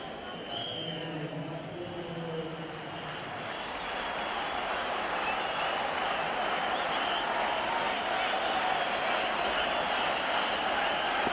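A stadium crowd roars and applauds at the Sri Lanka versus Australia 2003 Cricket World Cup semi-final, a broad sustained wash of cheering that swells slightly louder as it continues, heard from a distance.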